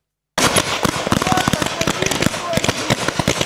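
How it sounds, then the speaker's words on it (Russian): Sharp bangs of blanks and firecracker-like blasts crackle in rapid irregular bursts during a military-patriotic game at a children's summer camp, loud and close, with voices shouting in the background. "Выстрелы, взрывы и крики победителей."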